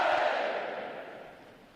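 Graduating U.S. Navy recruits at a boot camp ceremony roar a massed cheer, a loud unified crowd shout that fades steadily over a second or two.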